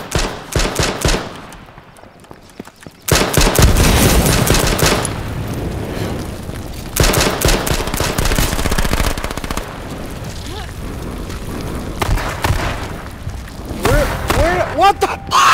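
Rapid gunfire bursts in the H1Z1 battle royale video game, loud volleys of pistol and automatic shots that come in dense clusters across the clip, broken by short quieter gaps, with players talking over it.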